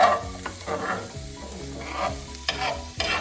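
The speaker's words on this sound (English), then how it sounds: "So I'm gonna just stir this around a little bit." Fried rice with butter is stirred around in a hot pan, a steady sizzle under scraping spatula strokes, close and continuous with no voices.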